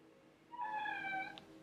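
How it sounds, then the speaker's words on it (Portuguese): A single cat meow, a drawn-out rising and falling cry lasting under a second, moderately close and clear over a quiet room background. "É, minha gata"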